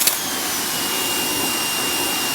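After a short click, a Westinghouse electric pressure washer's motor whines into a steady, loud, hissing drone, like spray from a high-pressure nozzle running continuously.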